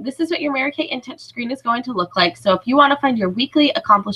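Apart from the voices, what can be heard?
No distinct noise like a dog, phone or traffic.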